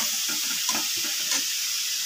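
Grated papaya tossed into hot frying masala in a pan for a papaya ghonto, a loud steady sizzle with soft stirring scrapes throughout.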